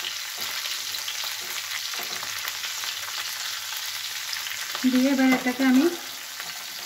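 Mixed vegetables with tomato sizzle in a pan and are stirred, a soft crackling fry under someone speaking, with a brief louder clatter of stirring near the end.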